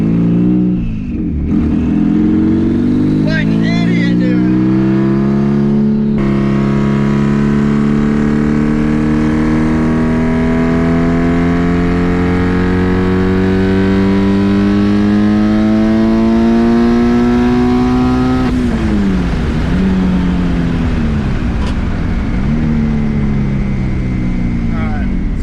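Twin-turbo Subaru STI on a street tune, engine accelerating hard with rising revs over about 18 seconds before a gear change or lift, loud and close, with people talking over it.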